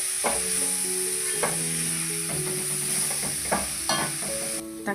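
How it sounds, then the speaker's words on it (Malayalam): Chopped tomatoes stirred and sautéed in a pan for Kerala-style chicken curry, a loud continuous sizzle broken by repeated scraping strokes of a spoon, close and without speech. "ഇനി നമുക്ക് തക്കാളിയും ചേർത്ത് നന്നായിട്ടൊന്ന് മിക്സ് ചെയ്ത് കൊടുക്കാം"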